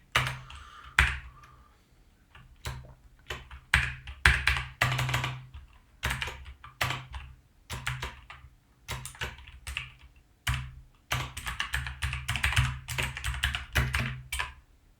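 A Python script is typed on a computer keyboard, with close, uneven bursts of key clicks and pauses between runs, and no voices.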